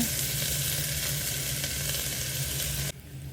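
Chopped large onion frying with fennel seeds in a pan for kurma, a steady loud sizzle and crackle for about three seconds that suddenly drops to a quieter hiss, with no talking.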